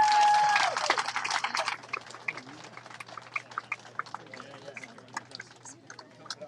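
Brief burst of applause for a race-winning ocean rowing team at its arrival, loud at first and then thinning within two seconds into scattered, sparse claps.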